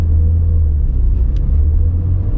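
A 1996 Nissan Skyline GT-R LM V-Spec being driven, heard from inside as a loud, steady low engine rumble that drones on without a break and has no talking over it.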